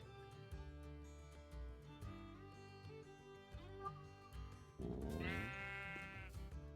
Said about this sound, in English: Let's go get some sheep.